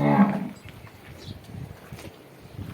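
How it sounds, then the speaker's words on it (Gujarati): A newly bought village cow with a calf gives one deep, loud moo close by at the start, then only quiet farmyard background remains. "નવી ગાય ને વાછડી એ તમને બતાવું આગળ"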